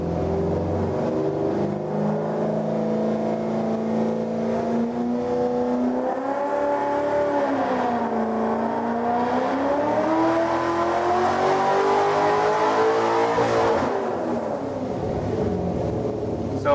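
A Corvette making over 1300 wheel horsepower runs a pull on a Dynojet chassis dyno. The engine's loud, sustained roar holds steady, then its pitch dips and climbs again over about seventeen seconds, with no break.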